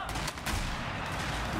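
Heavy gunfire roars in a loud, dense, unbroken wash during a Battlefield 4 match on Kunlun Mountains, with no speech over it.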